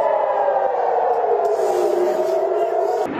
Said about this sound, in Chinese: 以色列南部港都阿什克隆才刚响起空袭警报